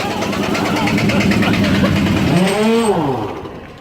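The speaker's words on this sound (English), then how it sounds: "Is that their concrete mixer?" A loud, rumbling concrete mixer truck engine runs close by with a steady drone, then winds down and fades over the last second.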